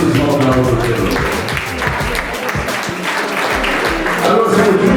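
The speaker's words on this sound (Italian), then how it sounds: "un grossissimo applauso per loro" A dense, steady wash of audience applause at a beauty contest in Vicenza, sustained at full loudness for the whole stretch with no voices on top.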